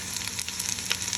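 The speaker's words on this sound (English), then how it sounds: "that nice gentle sizzle is our indication that we're not burning, but we're caramelizing" A soft, steady sizzle of turkey gravy base browning in a pan, quiet and continuous with faint crackles scattered through.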